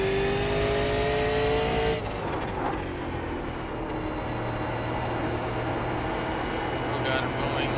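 Super late model race car engine in a racing video game at Thompson, droning loud and steady with a sudden pitch drop partway through, then an uneven, rough hum that suggests wheel hop.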